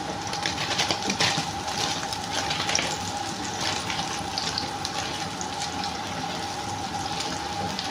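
Hot water pours over paneer in a steady, continuous rushing stream, unbroken and fairly close, with no voices.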